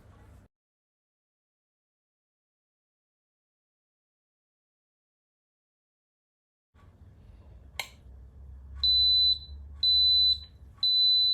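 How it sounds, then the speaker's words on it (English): After a long stretch of silence, a faint hum and a click give way to a Pifco electric egg cooker's high electronic alarm beeping in three steady, evenly spaced bursts. "So the alarms are going off now."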